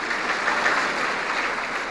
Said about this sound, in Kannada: ಚಪ್ಪಾಳೆ